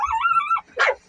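Belka, a rescued dog, lets out a close, wavering whine that slides in pitch, followed after a brief pause by a single short, sharp bark.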